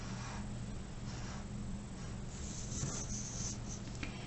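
A pen scratches steadily across paper, quiet and close, as Zentangle flower patterns are drawn with faint rubbing strokes throughout.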